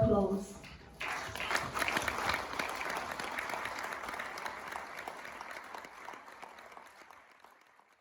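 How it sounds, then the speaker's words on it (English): An audience at a community poverty commission launch applauds guests invited on stage. A voice is briefly heard first, then steady, dense clapping rises sharply and carries on for several seconds, slowly thinning toward the end. "one final round of applause"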